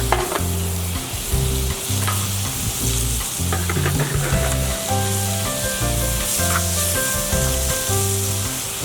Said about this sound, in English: And put down the hamburgers.